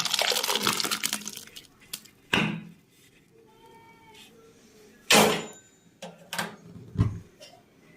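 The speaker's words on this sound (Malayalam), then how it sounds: "ഇത് നമുക്ക് ഈ ബൗളിലേക്ക് ഒഴിക്കുക." Okra curry is poured and scraped from a pan into a bowl in a Kerala kitchen, heard as several short, close bursts of sloshing and scraping separated by quiet gaps.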